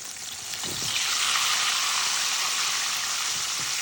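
Chicken pieces deep fry in oil, giving a dense, bright, continuous sizzle that swells in the first second and stays loud, with faint soft bumps underneath.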